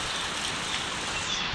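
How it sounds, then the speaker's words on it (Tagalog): Rain eases off after Typhoon Aghon, falling as a soft, steady hiss of drops on surfaces, faint and even throughout with no voices. "medyo mahina na ang ating ulan."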